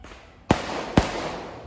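Two sharp firecracker bangs about half a second apart, loud and close, each trailing into a brief noisy decay with no talk.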